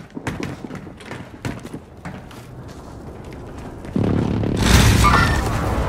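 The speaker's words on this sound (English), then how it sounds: "Precision airstrike." A precision airstrike in Call of Duty Warzone brings a sudden heavy rumbling blast after scattered thuds and clanks, the explosion loud and sustained through the last two seconds.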